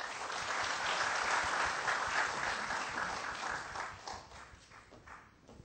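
An audience applauds at an award ceremony, a full round of clapping from the crowd in a hall that holds steady, then thins and fades away toward the end.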